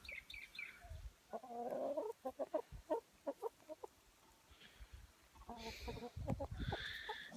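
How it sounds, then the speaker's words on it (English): A chicken clucks close by in a series of short, rapid bursts, with louder squawking calls near the end. Pecking taps at someone's feet are not clearly audible. A person speaks quietly between the clucks. "I have a chicken that's like pecking at my feet"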